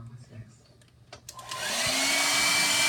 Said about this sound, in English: I use my blow dryer in the kitchen a lot